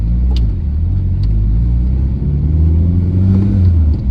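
A 1989 Toyota Celica GT-Four ST185 rally car, freshly rebuilt and not fully warmed up, rumbles steadily up close, its engine drone rising slightly in pitch as it gently accelerates, with no talk.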